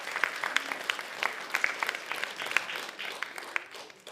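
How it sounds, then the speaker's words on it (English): A small group applauding, steady scattered clapping lasting a few seconds at moderate volume. "So can we give them all a round of applause again?"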